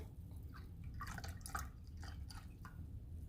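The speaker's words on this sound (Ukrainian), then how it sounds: "Давайте заливаємо горілкою" Vodka being poured over citrus for a homemade liqueur, heard as faint, quick dribbling and splashing liquid over a low background rumble.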